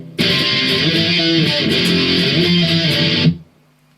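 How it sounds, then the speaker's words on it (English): A heavy, distorted electric guitar plays the intro riff, steady, ringing notes for about three seconds, then cuts off abruptly into near silence. "It kicks in really heavy, so crank up your distortion"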